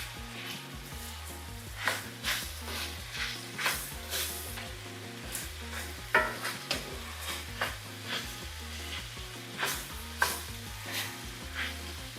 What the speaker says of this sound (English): Go ahead and give all your ingredients a loving mix